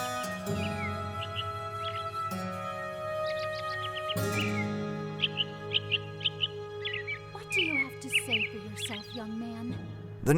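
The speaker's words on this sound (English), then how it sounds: "The nearby robins' harmonic chirps were hypnotic in the sweltering heat." Robins in sweltering heat chirp in short, bright bursts that grow more frequent toward the end, set over a sustained tonal drone.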